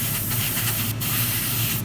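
An aerosol spray can paints parts of a Tamiya 1:24 Ferrari LaFerrari model kit, a dense steady hiss close by, with brief sharper bursts as the nozzle is pressed.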